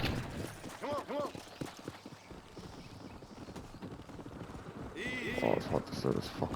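A horse in the video game Red Dead Redemption gallops with quick, rhythmic hoof beats and gives a few whinnies, with a voice talking over parts of it.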